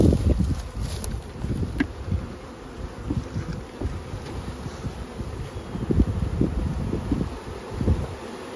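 A swarm of honey bees during a spring swarm catch by a beekeeper, giving off a dense, steady buzzing that fills the whole stretch, close to the microphone and mixed with gusts of wind.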